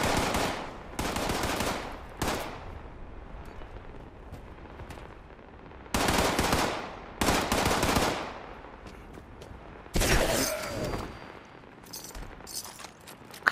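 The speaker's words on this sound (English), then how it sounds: "What are you shooting at?" Gunfire in the video game Fallout 76 during a fight against a scorchbeast, rapid loud bursts of automatic shots in several volleys with brief pauses and one booming blast near the end.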